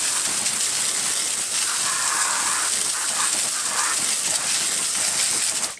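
A water spray rinses degreaser off a boat trailer, a loud, steady hissing gush close by that runs without a break before cutting off at the end, with no talk.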